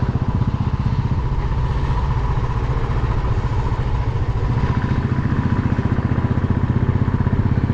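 A motorcycle engine runs steadily on the road toward Gangotri Dham in Uttarakhand, a continuous close, loud throbbing rumble with no pauses.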